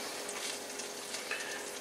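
Bologna fries in a hot pan, a steady dense crackling sizzle throughout, close and continuous, with a faint metallic tick.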